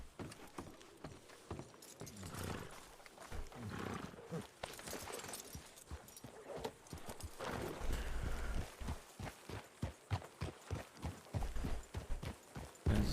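Horse hooves clip-clop in steady rhythm through a Red Dead Wild RP game scene, the clopping fairly close and distinct over a busy background.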